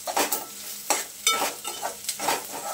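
Crushed garlic, ginger and curry leaves sizzle with onions in a hot pan, with bright frying hiss and several scraping stirs of a utensil repeating at a steady pace, close and fairly loud.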